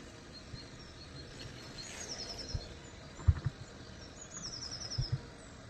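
Faint, brief bird chirps in short rapid trills at a distance, twice, over quiet outdoor ambience with a few low thumps, at the hortillonnages water gardens in Amiens.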